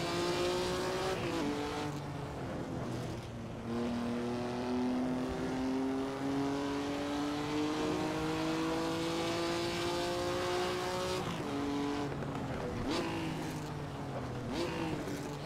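A race car engine in the game Assetto Corsa, on the Laguna Seca track, drones and climbs steadily in pitch, dropping with gear shifts before surging again, loud and continuous.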